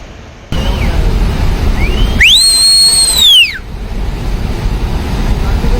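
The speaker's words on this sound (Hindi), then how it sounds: "लोग चिल्लाने लगे, सीटियां बजाकर लोगों को अलर्ट करने लगे।" Sharp whistles are blown to warn people of an approaching flash flood during heavy rain, one long rising-and-falling blast standing out loud and close over a steady roar of rushing water, with fainter whistles before it.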